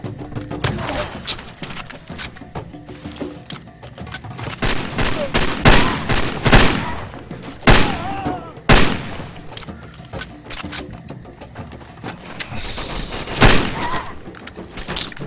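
Gunfire in the video game Far Cry 2, repeated loud close shots in bursts and single cracks with booms and thuds over steady game ambience.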